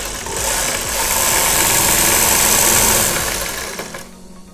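A sewing machine runs in one steady, loud, close burst of several seconds while stitching the gathered elastic waist of a bell-bottom trouser, then winds down and stops.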